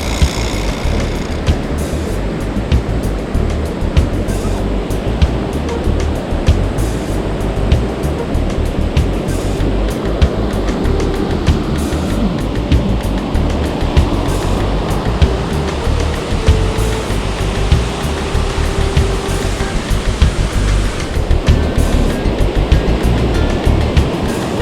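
Loud, continuous roar of rushing water, dense and unbroken throughout, like a powerful waterfall heard up close.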